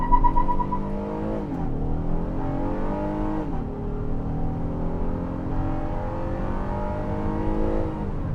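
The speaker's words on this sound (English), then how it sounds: "First attempt at 0 to 60, test out this V6 280 horsepower." A 2021 Honda Odyssey minivan with a 280-horsepower V6 accelerating hard from 0 to 60 in sport mode, engine note climbing steadily with two dips at gear shifts, loud and continuous from inside the cabin.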